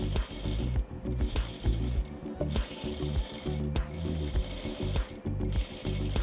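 A sewing machine stitches a triple-stitch baby hem along a seam allowance on bias-cut fabric, its needle hammering in a fast steady rhythm with brief mechanical pauses, close and loud.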